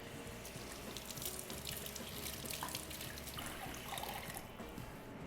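A kitchen water tap runs steadily while fresh thyme sprigs are rinsed under it, a soft continuous splashing hiss with faint droplet patter, fairly quiet and close.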